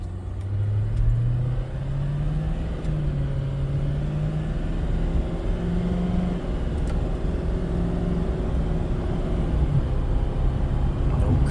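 2013 Duramax 6.6 diesel pickup truck driving on the road after an EGR pipe replacement, a steady deep engine drone with rising and falling pitch as it accelerates, heard from inside with no talking.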